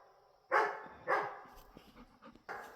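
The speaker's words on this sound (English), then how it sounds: "He's barking his head off." A dog barks a few times at a distance, sharp separate woofs with short pauses between, the last one following a quieter stretch.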